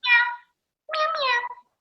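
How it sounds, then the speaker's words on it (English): A cat meows twice nearby: a short call, a brief pause, then a longer, drawn-out meow that rises and falls. "That's a message from the kitty cat."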